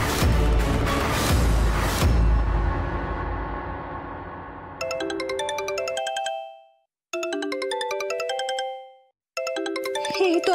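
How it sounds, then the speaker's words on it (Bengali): A mobile phone ringtone for an incoming call, heard in a Bengali TV serial scene. A bright, repeating electronic melody enters after a swell of dramatic background music and plays in loud bursts separated by short gaps. "এই তো ফোন করেছে।"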